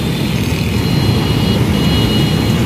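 Steady, dense roar of busy road traffic at a crowded intersection in Karachi, a continuous loud rumble of cars, trucks and engines with no clear gaps, heard up close.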